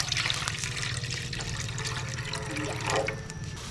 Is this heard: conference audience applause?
no